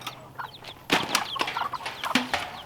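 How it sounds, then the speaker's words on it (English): Several chickens in a tiny predator-proof backyard coop make scattered clucks and short calls with brief wing-flapping bursts, close and fairly lively, with no talk. "All of the chickens in here."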